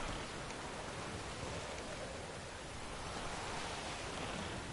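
Steady rain hisses on a stormy night in a video game, an even, unbroken wash of noise with no talking and no distinct drops.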